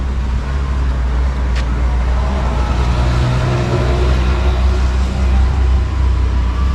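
An auto rickshaw rides through traffic with a constant loud rumble of engine and road noise and passing vehicles throughout.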